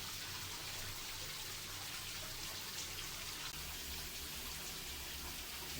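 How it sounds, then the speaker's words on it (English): Constant splashing of flowing water, a steady close wash of sound with no pauses or voices. "being in a pitch black room with the sound of water fountain in."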